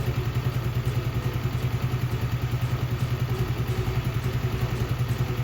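Small single-cylinder engine of a 2024 Icebear Champion Honda CT70 clone motorcycle idling up close: a steady, quick, even putter that stays quiet and regular throughout.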